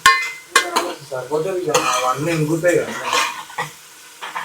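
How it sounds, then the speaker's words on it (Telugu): A spoon stirs cabbage and chana dal curry in a pan, giving intermittent scraping and clinking strokes with a soft sizzle, while a voice murmurs faintly in the background. "కూర ఇది బాగా మగ్గేదాకా ఇట్లా కలుపుతా ఉంటే"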